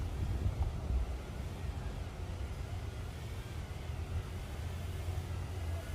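Strong wind buffets a microphone during a drone flight, a continuous low rumbling roar with a faint, steady rushing hiss above it.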